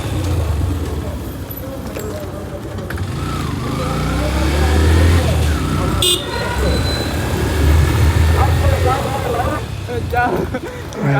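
A motorcycle rides alongside on Dhaka's 300 Feet road, its engine and tyre roar steady and loud with constant traffic noise, a brief horn toot near the middle, and voices faintly mixed in.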